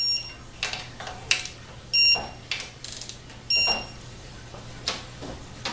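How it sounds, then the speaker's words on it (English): A torque wrench tightens bolts on a 4L60-E transmission during a rebuild, giving several sharp clicks and brief ratcheting bursts in an irregular rhythm, close by with no talk. "I'm going to go ahead and torque the bolts."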